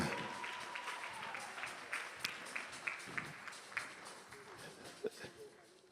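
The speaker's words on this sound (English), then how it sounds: "Give them a huge round of applause." Faint applause from a crowd at a youth business awards ceremony in KwaZulu-Natal, distant and soft with scattered sharper claps, mixed with voices in the background.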